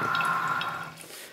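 Water bubbles steadily in a hookah base fitted with a bead diffuser, a soft, continuous fizzing churn with faint drips, close and fairly quiet throughout.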